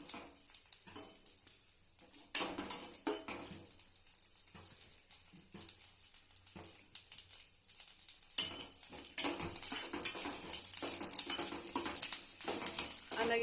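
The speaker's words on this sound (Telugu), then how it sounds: "ఆ తర్వాత పచ్చి కొబ్బరిని నెయ్యిలో వేసి వేయించుకోవాలండి" Fresh coconut fries in ghee in a pan with a soft sizzling hiss and occasional scraping stirs, growing louder and denser toward the end, with no talk.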